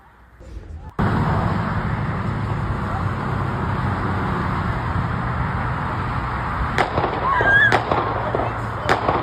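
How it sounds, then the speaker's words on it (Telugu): Gunshots during a shooting incident at Florida State University in Tallahassee, Florida, heard as a few sharp, separate cracks near the end over a steady wash of outdoor and traffic noise. "అమెరికాలో మరొకసారి కాల్పుల మోత మోగింది."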